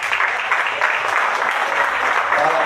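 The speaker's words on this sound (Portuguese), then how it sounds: "vamos aplaudir Jesus" A church congregation at a missions service applauds, a continuous wash of many hands clapping together at an even, loud level throughout.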